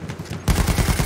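Rapid automatic gunfire in the video game Battlefield 1 bursts in suddenly after a brief quieter moment, then continues as a loud, dense stream of shots.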